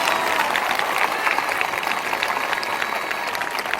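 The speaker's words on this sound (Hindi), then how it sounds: "जो मुस्कुराकर धन्यवाद कर रहे हैं तालियों के साथ" A congregation claps together at a prayer service, a dense and steady wash of many hands that carries on without a break, with no talk over it.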